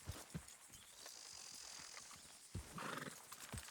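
Horse in Red Dead Redemption 2 neighing near the end, a bright whinny after a series of soft hoof clops and low thuds, quiet and close with no talk.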